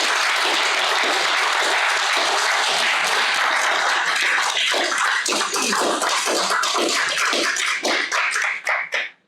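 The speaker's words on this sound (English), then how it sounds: "I believe that deserves a round of applause" A city council meeting audience applauds a staff member who earned a master's in public administration, dense sustained clapping filling the room before thinning into a few final claps.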